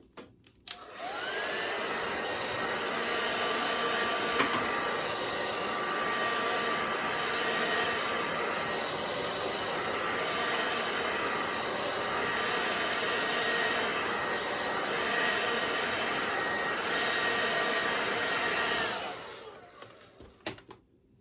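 Hair dryer blowing steadily and loudly on a wet watercolor sunset painting, a continuous close whoosh running about eighteen seconds with no talk before cutting off.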